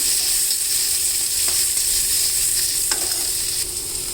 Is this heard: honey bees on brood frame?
no